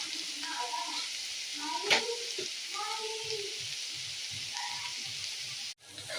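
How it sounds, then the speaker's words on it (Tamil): Cabbage stir-fry with grated coconut being stirred in a pan, a close sizzle and repeated scraping strokes of a spoon, with a sharp clink and faint voice-like tones in the background. "நல்லா தேங்காய் பூ போட்டு நல்லா கிண்டியாச்சு."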